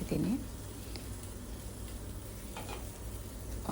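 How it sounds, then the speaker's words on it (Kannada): Onion, cumin, clove, cinnamon, bay leaf and pepper fry in oil with a soft, steady sizzle, faint and close, joined by occasional light stirring clatter and a brief voice. "ಈರುಳ್ಳಿ, ಜೀರಿಗೆ, ಲವಂಗ, ಮತ್ತು ಚಕ್ಕೆ, 1 ಬೇ ಲೀಫು ಎಲ್ಲ, 1 ಟೇಬಲ್ ಸ್ಪೂನಷ್ಟು ಮೆಣಸು ಎಲ್ಲನೂ ಹಾಕ್ಕೊಂಡು ನಾನು ಆಯಿಲಲ್ಲಿ ಒಂದು ಸ್ವಲ್ಪ"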